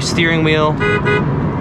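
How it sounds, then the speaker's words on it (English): The loud horn of a 1997 Ford Mustang Cobra blares in a couple of sustained blasts, close by, while a person speaks over it. "that's a loud horn"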